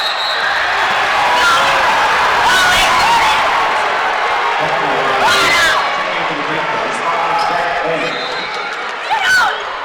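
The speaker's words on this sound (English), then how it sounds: "Crowd does not like it" A high school varsity boys basketball crowd reacts to a referee's close backcourt call, a loud sustained roar of voices and shouts filling the gym alongside commentary.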